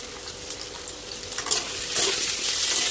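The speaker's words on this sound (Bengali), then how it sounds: "আস্তে আস্তে একটু টাইম দিতে হবে আলুগুলো ভাজতে।" Potatoes frying in a pan with salt and turmeric, a close, steady sizzle with stirring scrapes that swell slightly toward the end, no voices.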